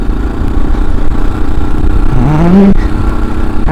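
A dirt bike ridden off-road over uneven hill tracks gives a loud, continuous engine drone that revs up in a rising whine near the end before dropping back, with rattly mechanical noise throughout.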